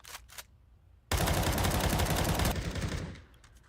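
Rifle gunfire in a Counter-Strike match bursts in loud and sustained for over a second of rapid, overlapping shots, then tapers off, with fainter scattered game sounds before it.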